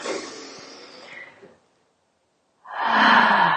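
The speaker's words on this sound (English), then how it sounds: "a deep breath in through my nose and a sighing out" A slow breath drawn in through the nose, followed by a pause of silence, then a long, airy exhale that starts abruptly and stays close.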